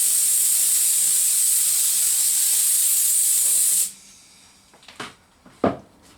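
Air compressor tank being bled during a Rover P6 V8 vinyl roof restoration, a loud steady hiss of escaping air that cuts off abruptly, followed by a few soft knocks and handling noises.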